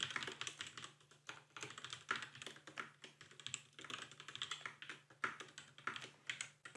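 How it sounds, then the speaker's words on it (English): Rapid, clacky typing on a computer keyboard, steady bursts of keystrokes close to the microphone with no talking. "Pardon my very loud typing."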